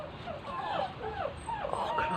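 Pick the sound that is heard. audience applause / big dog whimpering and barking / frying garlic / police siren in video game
big dog whimpering and barking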